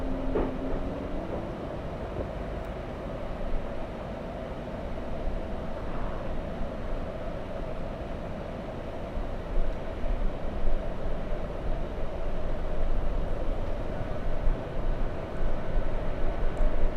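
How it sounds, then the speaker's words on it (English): A Delta Air Lines Boeing 757 at Los Angeles airport gives a steady, broad jet roar that fills the whole stretch, swelling slightly louder toward the end, heard from a distance with no talk. "Is that a 757? Indeed it is. That's a 757."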